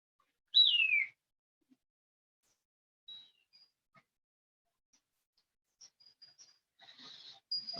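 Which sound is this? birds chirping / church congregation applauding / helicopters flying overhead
birds chirping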